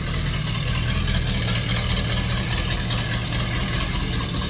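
A car engine idles with an open exhaust and no resonator fitted, a steady low rumble held evenly throughout, loud and close with no talking.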